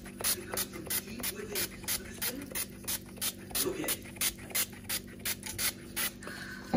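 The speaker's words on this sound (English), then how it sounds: "I'm going to spray it with my thief spray." Repeated short sprays from a trigger bottle onto grapes hiss in a steady rhythm, about two pumps per second, close and clear over a low background hum.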